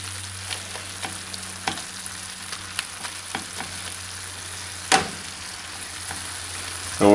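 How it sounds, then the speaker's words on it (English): Leftover water boils off in a hot skillet on a touch over medium heat with a steady close sizzle, light crackling pops throughout and a louder burst of hissing near the end. "let the water just boil off and sizzle up before I throw the potatoes in"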